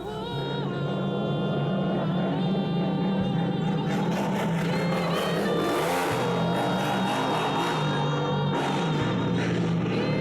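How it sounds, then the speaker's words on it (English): Motorcycle engine revving in a music video, a loud continuous rumbling roar with rising throttle bursts that sits over music from start to finish. "who's riding a fucking motorcycle in the music video?"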